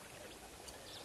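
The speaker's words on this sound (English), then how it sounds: "the sound of running water, or just water in general, just lapping against the shore" Water running and lapping against the shore of a waterhole, a soft, steady wash of even noise that stays close and uniform throughout, with no voices.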